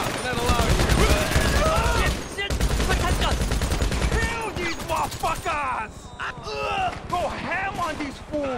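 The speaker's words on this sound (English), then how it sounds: "Why are they always shooting at me?" Rapid bursts of automatic gunfire ring out in GTA V Online, dense and loud, with shouting voices and game dialogue layered over the shooting throughout.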